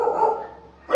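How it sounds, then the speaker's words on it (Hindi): A pet dog barks loudly and close by in a single sustained bark that tails off, followed by a sharp rise at the very end; no one speaks. "देखो मेरा कुत्ता भी भौंक रहा है."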